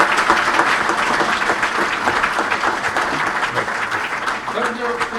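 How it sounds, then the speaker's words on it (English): An audience at the launch ceremony for the Gambia's first capital market claps loudly and continuously for several seconds, with a voice faintly audible beneath the applause. "Please, let's give him another round of applause."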